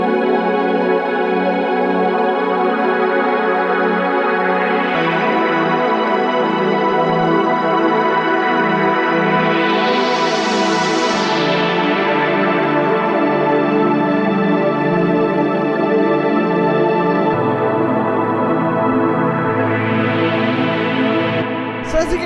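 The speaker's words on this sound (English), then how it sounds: "a very 90s style of chord" Sustained 90s-style synth pad layered with a string pad, playing slow held chords at 155 BPM for classic drum and bass, with swelling filter sweeps rising and falling between chord changes, loud and steady with no voices.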